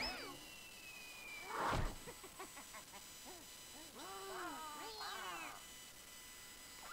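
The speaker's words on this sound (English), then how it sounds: "A cat." A cartoonish cat meows several times in the Banjo-Kazooie: Nuts & Bolts video game, a series of short, bending, stylised calls over quiet game ambience with a soft thump in between.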